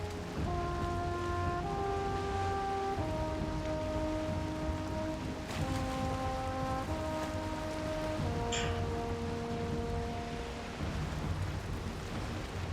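Steady rain hisses evenly over the ocean in the video game Valheim, with soft sustained musical tones layered over it and a faint rumble beneath.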